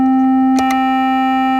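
A steady electronic triangle wave tone at a fixed pitch, loud and continuous with faint upper overtones, interrupted by a couple of short clicks midway.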